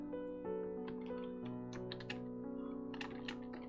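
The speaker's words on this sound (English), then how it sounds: "just so you guys don't have to, like, listen to me do keyboard ASMR" Typing on a computer keyboard in an art studio, soft steady key clicks beneath a low humming background, faint and close.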